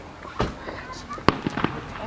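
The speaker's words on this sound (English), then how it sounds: "Look at the fireworks." A few distant Fourth of July fireworks pop and crackle in quick succession, with faint background murmur around them.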